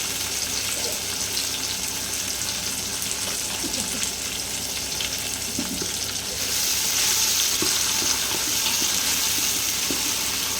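Tomatoes frying in a pan, giving a constant dense sizzle with small scattered pops and stirring taps, close and fairly loud, growing slightly stronger toward the end.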